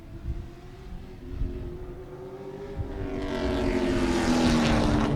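Race cars at Sebring during the Turkey Trot Big Bore event, engines droning steadily at a distance and swelling louder as cars come through the turn 2 and 3 area, a rising whine building toward the end.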